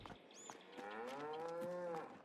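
Cows in Farming Simulator 22 give a single drawn-out moo with a rising then falling tone, fairly close and clear, with no talk over it.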